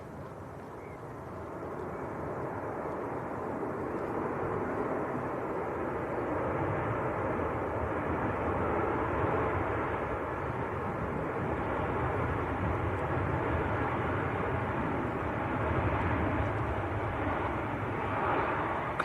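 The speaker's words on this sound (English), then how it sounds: "Ryanair, just touching down in from Pisa in Italy." A Ryanair Boeing 737-800 arrives from Pisa and touches down at Manchester Airport, its broad engine roar heard from a distance, steady and sustained for the whole span with slight swells.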